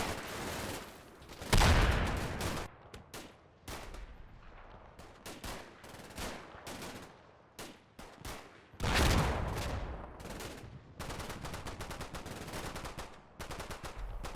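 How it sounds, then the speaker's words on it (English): Mortar rounds fall on a WWII infantry platoon in the Combat Mission Final Blitzkrieg game, with two heavy, booming blasts among dense crackling rifle and machine-gun fire that comes in loud and quiet waves. "2nd Platoon comes under mortar fire in retaliation for their failed flanking attempt"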